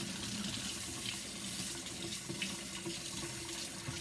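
Water runs steadily from a tap into a sink for bathing an 8-week-old puppy, a constant hissing splash without pause, nearby and fairly quiet.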